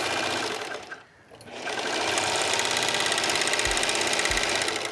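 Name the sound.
serger sewing machine running off the end of a seam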